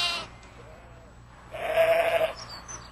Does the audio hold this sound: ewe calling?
yes